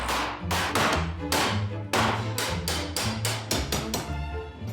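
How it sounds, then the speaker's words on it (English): A rapid series of loud metal hammer blows smashing a rusted hinge, sharp clanks landing about twice a second with brief gaps, close and forceful. "when in doubt, smash it with a hammer"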